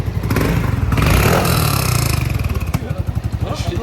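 A Honda ADV 350 scooter engine idles close by with a rapid, even putter, while people talk over it.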